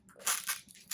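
A washable mopping pad is snapped onto a Shark AI Ultra 2-in-1 self-emptying robot vacuum, giving a short close plastic crunch and click in under a second with a final sharp snap.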